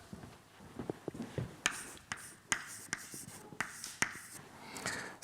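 Writing on a board during a lecture: a steady run of sharp, close strokes and taps with brief scraping marks, irregular in rhythm and fairly clear, with no talk over it.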